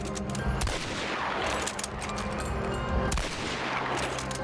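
Suppressed gunfire from silenced weapons in the video game Hunt: Showdown: two sharp muffled reports with a broadband crack, each trailing off into echoing reverberation, spaced a few seconds apart with no talking.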